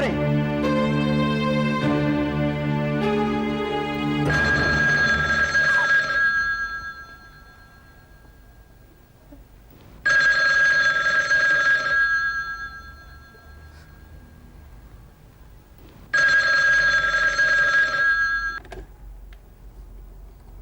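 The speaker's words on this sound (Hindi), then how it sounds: "बहुत देर लगा दी फोन उठाने में।" Telephone ringing in a Hindi TV drama scene, heard as repeated loud electronic ring bursts of about two seconds each at regular intervals over a musical underscore, with no talking.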